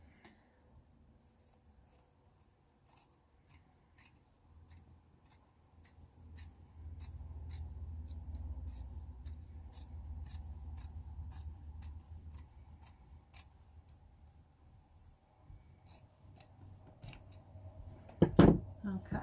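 Scissors snipping through fabric while it is trimmed into a square for decoupaging a plate, a quiet run of close, crisp cuts with low rustling and a louder clack near the end.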